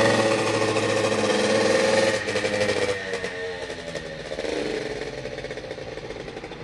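A motorcycle engine running with its kickstand left down drones loudly and evenly, then drops off abruptly after about two seconds and carries on as a weaker, uneven sputter.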